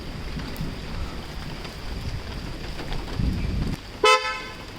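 A single short, loud blast from the horn of a 2020 Hyundai Creta EX sounds near the end, after a stretch of low wind rumble and outdoor background noise.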